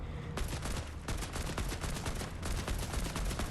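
Rapid, dense video-game gunfire fired at the Zero Point, a steady automatic barrage of close, loud shots that runs almost unbroken from start to finish with no talking.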